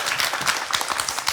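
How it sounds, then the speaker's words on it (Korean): Studio audience on a Korean TV show bursts into dense, lively applause, many hands clapping together in a steady close roar. "우리 격려의 박수 좀 보내드릴까요?"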